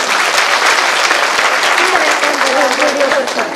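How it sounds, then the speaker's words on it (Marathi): Loud, sustained applause from an audience at a Republican Aghadi Maharashtra gathering, steady dense clapping throughout with a voice faintly audible underneath. "त्यामुळे त्यांच्यासाठी सर्वांनी एकदा जोरात टाळ्या वाजवायच्या."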